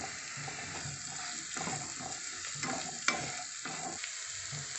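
Bitter gourd pieces with thinly sliced garlic and a pinch of turmeric frying in a pan: a close, steady hiss and crackle with soft stirring scrapes, running continuously for several seconds without any talking.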